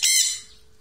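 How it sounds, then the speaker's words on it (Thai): A single short, harsh squawk from a crow flying past, loud and close, fading quickly into quiet. "อีกาบินผ่าน"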